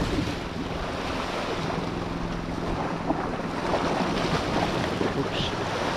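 Strong river current rushes past during lure fishing, a dense continuous wash of flowing water with wind buffeting the microphone, steady and close throughout.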